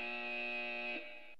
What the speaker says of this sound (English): That buzzer you just heard means that our time is up.